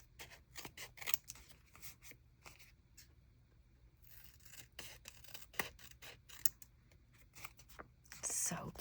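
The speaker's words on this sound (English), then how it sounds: "I'm just going to trim right along the edge of the tape" Scissors snip paper along the edge of tape in an art journal session, a quick series of close, crisp cuts in irregular bursts, with a soft voice talking between them.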